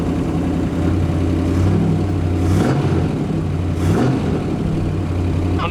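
Engine of a 1962 Mercury Monterey, parked, with dual exhaust, rumbles at a steady low idle and is revved twice in quick swells before settling back down, close and alone.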